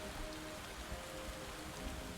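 Steady rainfall in the video game Satisfactory, a continuous even hiss of drops pattering on surfaces with no break and no voices.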